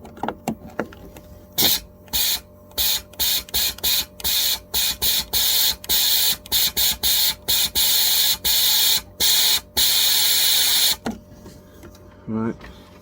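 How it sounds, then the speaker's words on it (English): Compressed air hisses through a tube inside a BMW E53 X5 with a water leak, fired in a rapid series of short loud bursts of varying length before stopping, and a brief squeak comes at the end. "I'm just going to try blowing compressed air through it"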